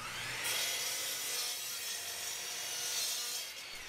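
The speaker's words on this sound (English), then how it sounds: "I'm going to go ahead and cross cut it down to approximate size." A handsaw cross cuts a Pacific Coast tiger maple board, a steady, close rasping stroke running continuously for a few seconds before easing off at the end.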